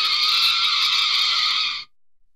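A car brakes hard and its tires skid in a stock sound effect, a loud, steady screech held for almost two seconds before cutting off abruptly into silence.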